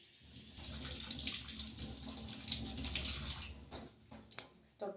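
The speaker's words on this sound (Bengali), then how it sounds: "তো এটাকে আমি ধুয়ে নিই।" Tomatoes are washed under a running kitchen tap, giving a faint, steady rush of water with uneven splashes and a few sharper knocks toward the end.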